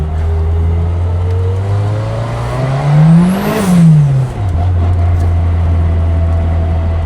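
A car passes by at close range, its engine note rising as it approaches, peaking loudly around the middle, then dropping in pitch as it moves away over a steady background engine hum.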